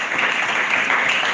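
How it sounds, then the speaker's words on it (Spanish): A church congregation at an evening Spanish-language Bible teaching service breaks into steady, close applause, a continuous wash of clapping with no voices over it. "Denle un aplauso al Señor en esta noche."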